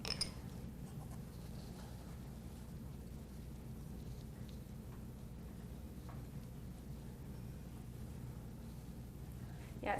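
A paper towel rubs over wet apple slices with a faint, continuous scratchy swishing, steady and close, ending with a slight bump.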